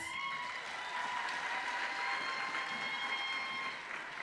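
A graduation-hall audience at a Faculty of Commerce ceremony gives a steady round of applause for graduates, a continuous wash of many hands clapping at moderate distance over a faint sustained hum.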